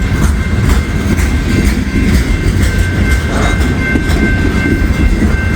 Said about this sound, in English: Man, that's a big coal train right here.